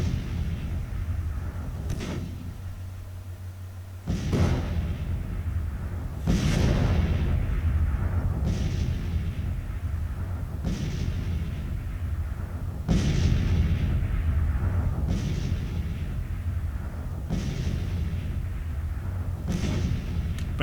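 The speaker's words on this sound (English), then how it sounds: "A lot of shooting going on. Oh, there's a fleet fires at the fort." Artillery and a naval fleet bombard a fort in a Civil War video game, a string of heavy booms roughly every two seconds rolling over a low, continuous rumble, moderately distant and without talk.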